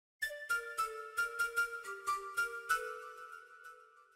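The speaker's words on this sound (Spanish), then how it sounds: "también tengo una flauta que saqué del Contact" Sampled flute from a Kontakt library plays a quick run of about a dozen short, rhythmic notes, then settles on a held tone that fades away, with no talking.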